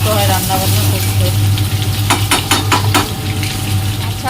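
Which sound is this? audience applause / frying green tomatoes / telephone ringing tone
frying green tomatoes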